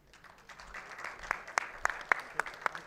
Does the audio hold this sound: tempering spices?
no